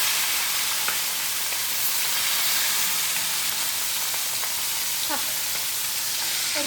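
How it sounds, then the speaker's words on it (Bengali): Fish sizzles in hot oil in a wok, a steady, dense frying hiss that runs throughout at close range, with faint clinks and chirps in the kitchen background. "এখানে মাছ ভাজার জন্য কড়াইতে তেল বসিয়েছি"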